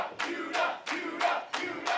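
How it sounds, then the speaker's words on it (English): Dojo Pro wrestling crowd roaring in repeated loud bursts of cheering and chanting, each swell lasting about a third of a second with brief dips between, close and dense with no talk over it. "he's also got the Dojo Pro crowd behind him"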